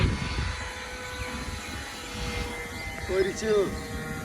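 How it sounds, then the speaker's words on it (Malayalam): A Tejas fighter jet passing overhead in Kerala, a distant, sustained engine roar and whine that swells slightly toward the end, with a brief voice heard partway through. "കേരളത്തിലത്തെ ആദ്യത്തെ ഫൈറ്റർ ജെറ്റ് തേജസ് പോണു"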